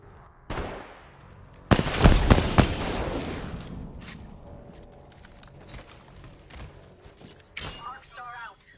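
A frag grenade blows up in the video game Apex Legends: a sharp, loud blast with a burst of crackling debris that fades over about a second, set among scattered game effects, with a voice speaking briefly.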